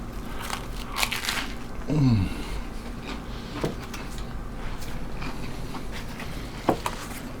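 Biting into a crunchy, buttery air-fried grilled cheese sandwich, with a couple of close crisp crunches followed by quieter chewing against a faint background hum.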